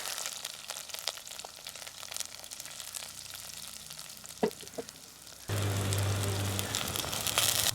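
Small shallots frying in hot oil for a Jaffna-style prawn and drumstick curry, a steady close sizzle that suddenly grows louder and denser partway through as more onions hit the oil, with no talking.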